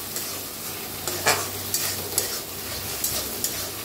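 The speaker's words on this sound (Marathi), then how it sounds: "तर छान मुगाच्या डाळीला भाजून घेऊया।" Moong dal roasts and is stirred in a pan, producing a soft continuous sizzle broken by repeated scraping strokes of a spoon at an uneven rhythm, close and moderately loud, with no talking.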